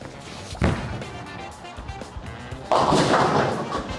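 A bowling ball thrown hard down a lane on a house shot: a thud as it lands, a low rumble as it rolls, then a louder crash that lingers.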